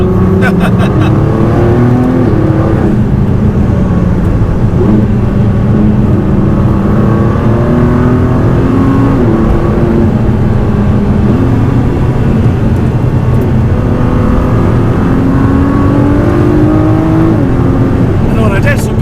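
A Ford GT's engine drones loudly from inside the car as it drives, with repeated rises and drops in pitch through gear changes, while people talk over it.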